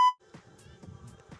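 A short, loud censor bleep tone sounds at the start, then a few muffled, faint sounds follow.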